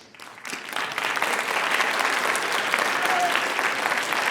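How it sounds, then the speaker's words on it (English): A classroom audience at a school writers expo bursts into sustained clapping and cheering, building within a second to a dense, steady wash of applause with a few voices mixed in. "Clap, cheer."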